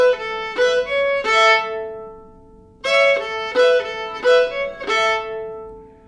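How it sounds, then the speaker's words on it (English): An old-time fiddle plays a tune ending lick with circle bowing, rocking bowed notes in two short rhythmic phrases separated by a pause, close and clear with no talking. "If we employed our circle bowing or our letter O bowing, it might sound something like this."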